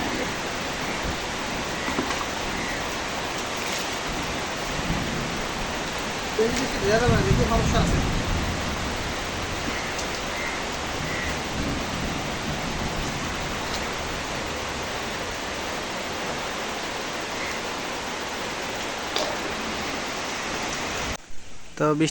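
Heavy rain pours steadily, a dense broadband hiss that stays loud and unbroken across the whole stretch, with a brief surge partway through and a sudden cut near the end; voices come in faintly under the downpour.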